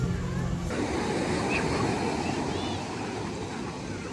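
Ocean surf breaking on the beach at Teluk Cempedak, Kuantan, a steady broadband wash with some wind, loud and continuous throughout, with no clear speech.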